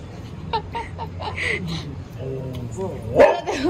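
A pet dog barks a few short, sharp times close by, with people chatting and laughing around it.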